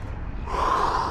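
A deep breath drawn in through the nose during an outdoor workout exercise, a rushing breathy inhale that swells in the second half, close and alone with no talk.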